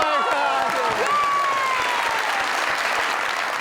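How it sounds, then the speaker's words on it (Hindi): Studio audience applause on a television talk show, a dense steady wash of many hands clapping throughout, loud and close, with a host's voice sliding over it near the start. "इनके लिए बहुत सारी तालियां"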